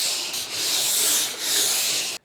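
Sandpaper rubbed back and forth over cross-country ski bases, a bright hissing scrape in long strokes with brief pauses between passes, close and steady, ending abruptly.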